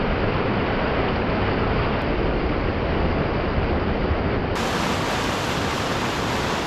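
A mountain stream on Helvellyn gushing and rushing downhill, a dense, loud, unbroken roar of water that stays steady from start to finish, heard close with no voices.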